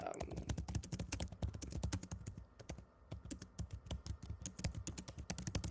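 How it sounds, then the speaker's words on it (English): Rapid keystrokes on a computer keyboard clatter steadily in dense, uneven bursts with a brief lull midway, close and fairly quiet. "I can't wait to see what you're typing."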